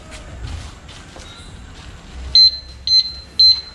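A motorbike disc brake lock alarm gives three loud, sharp electronic beeps at an even pace, each about a fifth of a second long. Softer background clatter and faint tones come before them.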